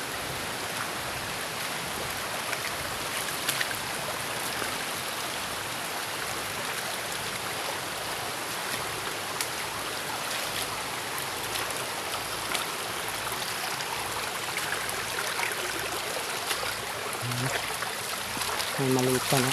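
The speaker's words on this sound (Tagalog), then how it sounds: "Napakalakas ng agos ng ilog dito" A strong river current rushes steadily in a broad, unbroken wash of water noise outdoors near a stream, loud and close throughout, with faint voices appearing near the end.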